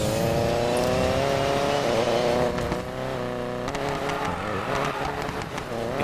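A car engine revs hard while racing in the video game Need for Speed: Payback, a loud, steady roar that rises and falls in pitch with gear changes, alone without talk.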